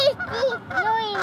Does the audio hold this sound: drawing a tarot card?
no